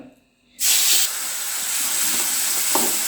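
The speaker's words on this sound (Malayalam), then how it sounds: "ചുവന്നുള്ളി പച്ചമുളക് വെളുത്തുള്ളി ഇത് ക്രഷ് ചെയ്ത് ഇതിക്കിടാം" Crushed shallots, green chili and garlic hit hot oil left from frying fish, bursting into a loud, close sizzle that holds steady, with a faint clink near the end.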